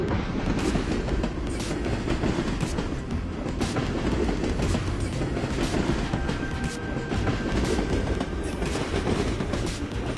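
A train from the Train vs Cars mobile game runs on its rails with a steady clickety-clack of wheels over track joints, continuous and fairly even, with no talking.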